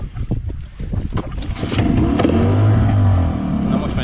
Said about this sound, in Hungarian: Na most megy a motor.